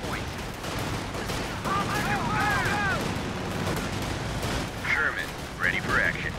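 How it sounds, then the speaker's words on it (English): Battle gunfire in Company of Heroes 2 during a 1v1 match, steady rattling shots and distant booms running continuously under game voices shouting and chirpy radio-like sounds. "We're taking fire!"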